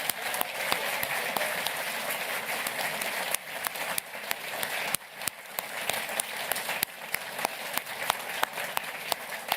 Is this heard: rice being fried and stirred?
no